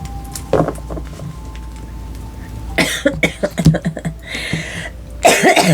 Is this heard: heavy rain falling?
no